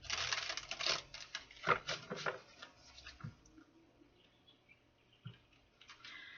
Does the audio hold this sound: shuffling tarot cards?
yes